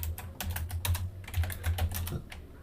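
Fingers typing on a computer keyboard while entering network switch configuration commands, a close run of quick, uneven key clicks with brief pauses, heard alone.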